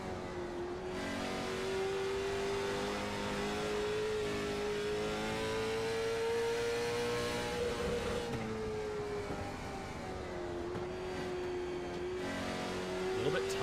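A race car circles Thompson Speedway on an onboard lap in iRacing, its engine droning close and loud in a sustained, slowly rising and falling pitch as it works through the corners, with faint background commentary underneath.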